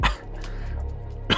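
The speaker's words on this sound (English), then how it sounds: "Sorry, I have this like really bad cough." A single sharp cough at the start, then a low hum, and a second short cough burst at the end.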